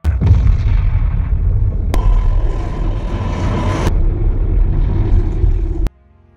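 A bomb blast in an action film erupts as a dense, sustained roar of explosion and debris, with sudden sharp cracks cutting in and a heavy low rumble, ending abruptly.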